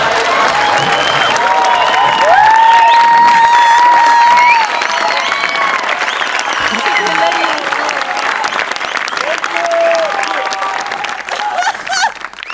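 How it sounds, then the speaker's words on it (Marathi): A large audience at a Marathi comedy gathering applauds loudly and steadily for a performer arriving on stage, dense clapping mixed with cheers and crowd noise running throughout, with a voice speaking over it. "जोरदार टाळ्या"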